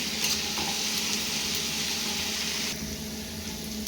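Onions frying in a pan for a simple chicken dish, a loud, continuous sizzle and crackle close by, dropping slightly in intensity near the end with no talking.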